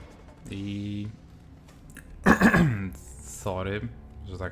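A person coughs and clears their throat in a short, harsh burst, with low voiced sounds before and after, close to the listener, while playing God of War.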